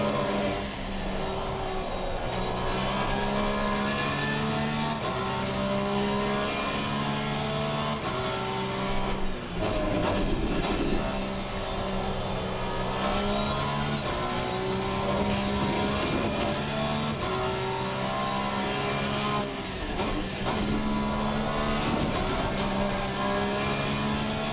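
A Porsche 911 GT3R races around Laguna Seca in the sim game Assetto Corsa Competizione, its engine howling loud and continuous, rising and falling through gear changes and braking zones across the lap.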